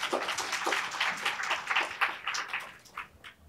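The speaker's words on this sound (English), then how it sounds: "let's give it a warm round of applause to speaker Yuichiro" A conference audience at PyCon Taiwan 2023 applauds a speaker, producing a dense, steady wash of many hands clapping at moderate volume that fades slightly toward the end.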